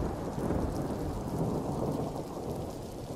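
A steady thunderstorm with heavy rain pours down throughout, low rumbling thunder rolling beneath a dense, continuous hiss of falling water, loud and close with no voices.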